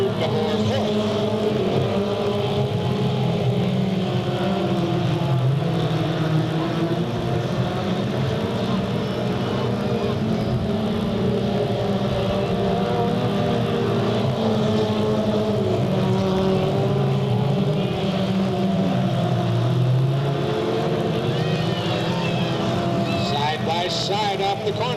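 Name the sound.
race cars racing at Delta Speedway, 1998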